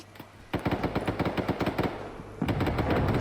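Big gun in the AC-130 video game firing a rapid burst of heavy booming shots for about a second and a half, then a pause and a loud sustained roar of gunfire at the end.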